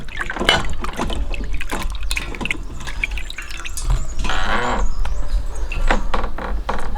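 Drumsticks being washed in water in a kitchen while cooking aviyal: steady, loud splashing and trickling close by, with running water and handling noises throughout, and no talk over it.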